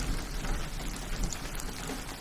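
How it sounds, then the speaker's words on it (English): Steady rain falls outside, a dense, even hiss of drops with no breaks, moderately loud and continuous on its own. "You can see the rain pattern outside."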